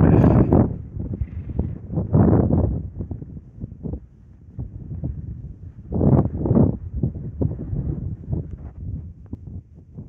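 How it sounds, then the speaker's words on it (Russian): Strong wind buffets a handheld microphone outdoors while climbing a mountain on a hike, in heavy low rumbling gusts that swell and fade in repeated bursts, with no talking. "Микрофон прикрываю, ветер сильный."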